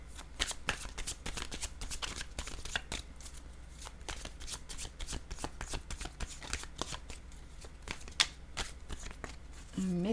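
Oracle cards being shuffled close up, a continuous run of quick riffling flicks and slaps for about ten seconds, steady and fairly quiet, with a brief tonal sound at the very end.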